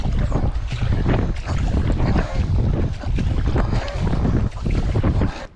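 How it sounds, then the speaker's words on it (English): Wind buffeting while paddling an Epic V9 surfski on the north section of Windermere, a loud continuous rush of wind noise with water slapping under it, heard without talk. "A little bit of wind on the nose."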